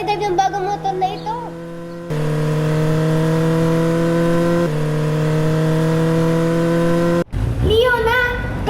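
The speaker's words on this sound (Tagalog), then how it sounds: "Sarap talagang i-drive yung bagong motor na ito." A new motorcycle engine revving steadily with a sustained droning pitch that shifts once, then cuts off abruptly, bracketed by voices before and after.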